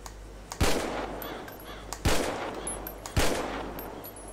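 Three single gunshots from a handgun in GTA V crack out at roughly even intervals, loud and close, each decaying into a short reverberant tail over a low background drone.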